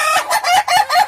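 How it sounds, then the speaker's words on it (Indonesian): A rose comb chicken from Stabat clucks close and loud in a quick run of four or five clipped, throaty clucks. "ini dia ayam Jengger Mawar"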